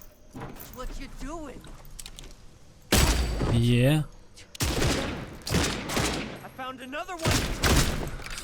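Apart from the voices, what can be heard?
gunfire from the video game Red Fall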